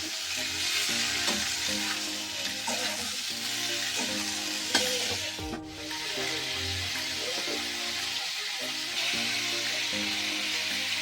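Tomatoes sizzle in hot oil in a pan for a rohu fish curry with cauliflower, a steady close frying hiss with scraping stirs and clinks of a spatula, no one talking.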